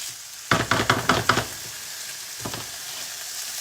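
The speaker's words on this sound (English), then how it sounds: "we're just browning this up" Chicken pieces browning in a hot pan for butter chicken, with a constant close sizzle punctuated by a quick burst of five utensil knocks against the pan, then two softer taps later.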